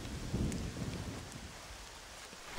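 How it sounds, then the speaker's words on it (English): In-game rain hisses steadily in Red Dead Redemption, with low rolling thunder rumbling in the first half and a sharp crack near the end, with no talk over it. "does it bum you out, too, when it's raining in a video game?"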